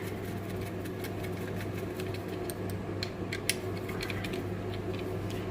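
Screws being tightened on a Simson S51 clutch basket held with a puller, giving faint metallic creaks and small ratcheting clicks over a steady mechanical hum, with no one talking.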